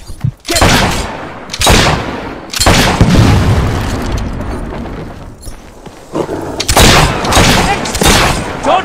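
Heavy gunfire in the Fable III video game cracks out in several loud, booming bursts separated by short pauses, with shouting voices between the shots.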